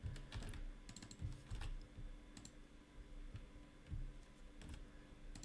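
Someone types code on a computer keyboard, with steady close, quiet key clicks running in irregular bursts throughout and no talking.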